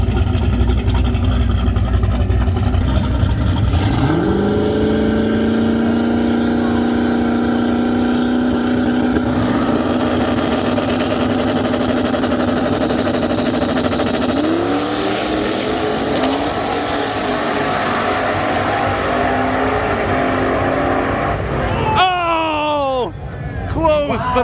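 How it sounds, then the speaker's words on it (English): Pro Street drag race final between a Camaro and a truck at the 2023 Miles of Mayhem: a loud, sustained engine roar rising through gear changes for about twenty seconds, then fading as the run ends, with a crowd murmuring under it. "The Camaro versus the truck."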